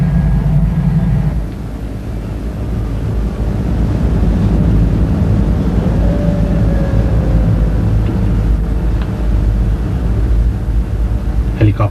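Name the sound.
helicopter carrying General Zia ul Haq's body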